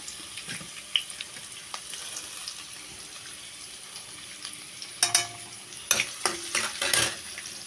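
Onion and garlic sautéing in a pan, a faint steady sizzle with occasional spoon scrapes and a cluster of louder clinks and stirring knocks near the end.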